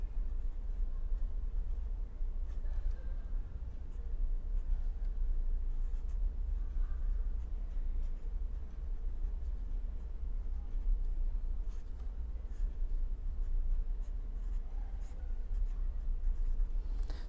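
Chalk or marker writing on a board during a physics lecture: continuous scratchy strokes and taps at a steady pace, fairly close, over a low room hum.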